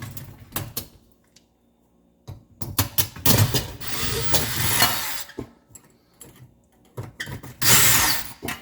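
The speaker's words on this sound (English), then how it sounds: "Let's take that nut out." A tool unfastens a nut on a GE convection oven broiler element, with close bursts of ratcheting and metallic clicking and scraping separated by short pauses.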